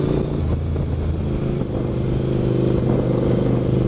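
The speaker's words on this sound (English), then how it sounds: "Pedestrian reacts to fiendishly loud exhaust." A car with a very loud exhaust revs up close, a heavy continuous rumbling roar with slight clatter that holds steady over a few seconds.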